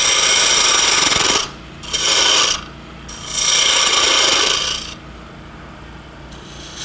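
A half-inch Sorby spindle gouge cuts wood spinning on a lathe, giving three loud rasping bursts of scraping and shaving separated by short pauses where only the lathe's hum remains, close and without talk.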